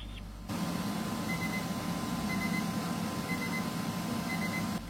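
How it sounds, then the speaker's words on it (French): A steady air fryer ventilation fan (Tefal ActiFry Extra FZ7228) whirs at an even level with a low hum throughout, with no speech. "comme vous le constatez avec le bruit fait par la ventilation"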